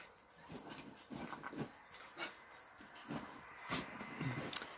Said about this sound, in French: Hein, t'es un bon chien, Léo.